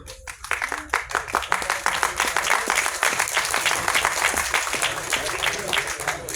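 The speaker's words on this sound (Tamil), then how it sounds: "உங்களோட கரகோஷங்கள் ரொம்ப முக்கியம்" Loud, steady clapping from the audience at a Tamil film audio launch event, with individual hand claps distinct and close within the continuous applause.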